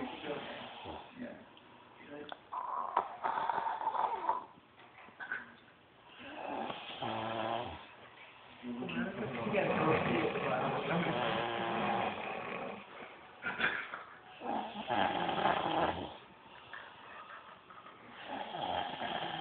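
A person sleeping and snoring loudly, with long rasping, rumbling breaths that rise and fall in slow cycles, very close and dominating the recording.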